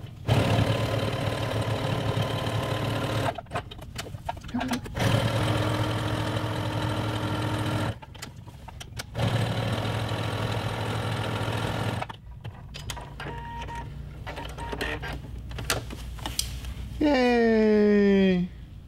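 A domestic sewing machine stitching along the edge of a triaxial woven fabric pillow front at standard stitch length, a steady loud mechanical whir in several long runs with short pauses, closing with a rising whine.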